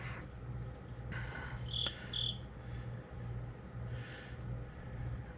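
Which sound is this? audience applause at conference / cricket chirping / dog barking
cricket chirping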